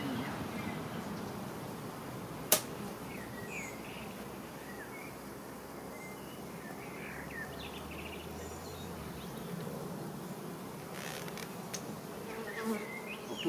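Dense, steady hum of a swarm of honeybees around an open beehive, a continuous close buzz with occasional individual bees passing nearby, no talking.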